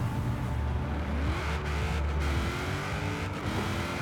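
A 1200 hp Pontiac GTO drag car in Forza Horizon 4 launches from 2,000 RPM, its engine a loud steady roar with rising pitch and a brief tire squeal, heard alone without talk.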